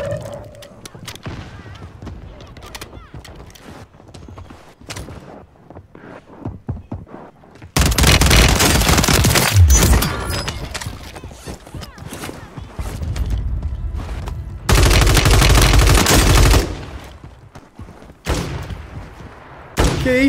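Rival 9 gunfire in the Warzone video game: dense bursts of rapid automatic shots in two long loud stretches, with quieter game sounds and scattered effects between them.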